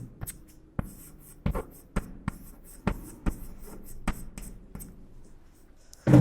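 A pen scratches out a handwritten answer to a rational-numbers maths exercise in quick, distinct strokes with short pauses between them, close up and fairly crisp.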